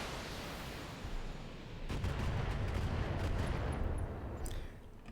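Video game gunfire, a sustained burst of rapid shots with a muffled, distant character, faint and without talk over it.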